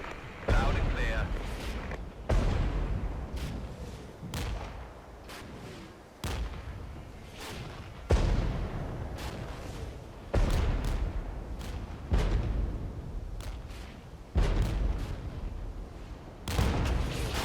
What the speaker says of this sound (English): Right, that artillery will be taken care of very quickly.